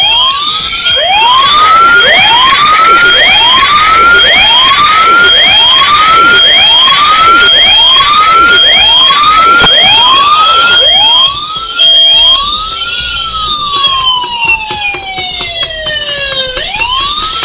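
A loud electronic flood alarm siren from a home control system speaker wails up and down in rapid repeated sweeps, then slows into longer rising and falling tones, continuous and close.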